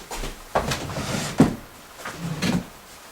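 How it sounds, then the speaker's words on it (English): A dresser drawer holding folded clothes is pulled out, giving a few soft wooden slides and bumps spread across about three seconds, fairly quiet and close, with no talking. "I'm going to pull out one of my drawers and show you her method"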